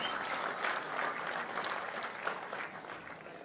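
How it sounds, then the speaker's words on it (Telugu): At a state minority welfare day event at Tummalapalli Kalakshetram, a large hall audience applauds award winners with sustained, even clapping, moderately distant and unbroken for a few seconds. "గట్టిగా చప్పట్లు కొట్టి అందరూ ఈ స్థాయికి రావాలని కోరుకుందాం."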